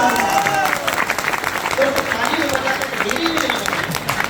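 A seminar audience in a hall applauds steadily and loudly, dense clapping filling the space, with voices mixed in over it.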